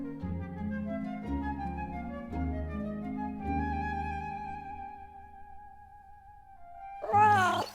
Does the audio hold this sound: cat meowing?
yes